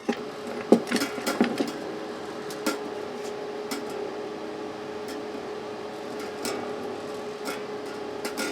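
Strings being wound onto a Spector Euro 5 bass, with scattered metallic clanks and rattles early on, then softer intermittent clicks over a low hum of quiet room noise.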